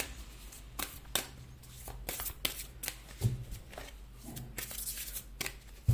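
Tarot cards being shuffled and pulled from the deck by hand, a run of close riffling and flicking bursts with sharp snaps between them, no speech over it.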